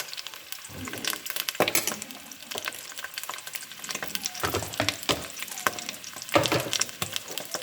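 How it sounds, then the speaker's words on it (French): Sausages frying and browning in a pan for sausages with cabbage, a steady close sizzle broken by irregular crackles and stirring clatter throughout, with no one speaking. "Faire revenir les saucisses."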